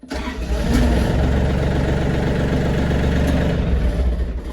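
A small engine on a Japanese Iseki TA-series mini tractor turns over and catches, then runs at a rough, steady idle, close by and fairly loud throughout.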